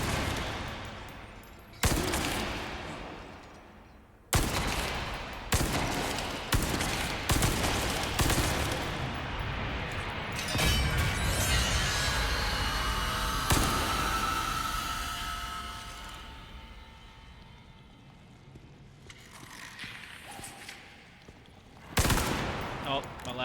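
Sustained gunfire in the video game Resident Evil 4, with loud sharp shots and rapid bursts that blend into a dense continuous barrage across the middle before tapering off, then a few final shots.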